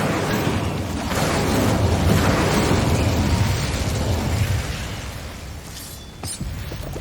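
The Incendio fire spell in Hogwarts Legacy, a loud roaring whoosh and fiery burst that swells for several seconds, then fades into quieter crackle with a sharp tick near the end.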